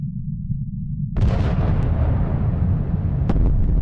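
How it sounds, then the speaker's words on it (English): A giant explosion goes off in a Pokemon video game, starting abruptly after a low hum with a loud burst that settles into a sustained rumbling roar, with a couple of sharp pops near the end. "this giant explosion brings us the 4th Titan Badge"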